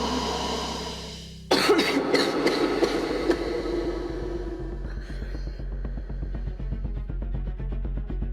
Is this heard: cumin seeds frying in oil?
no